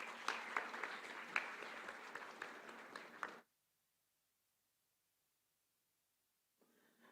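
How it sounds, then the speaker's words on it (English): Audience at a startup cell inauguration breaking into a loud, continuous round of applause for the principal, many hands clapping densely for about three seconds before cutting to silence, then a faint murmur. "Let's welcome him with a huge round of applause"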